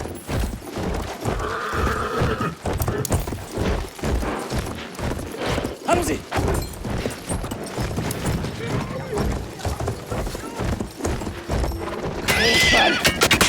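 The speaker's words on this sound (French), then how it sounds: "Au galop!" Galloping horse hooves in the World War I shooter Battlefield 1 pound in a fast, steady rhythm, close and loud, with a neigh partway through and gunfire and shouted French voices around them.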